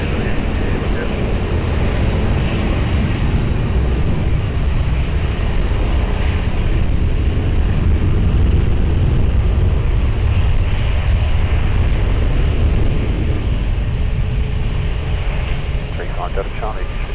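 An airplane takes off from runway 20 at Lisbon Airport, a sustained loud engine roar rising under continuous air traffic control radio talk.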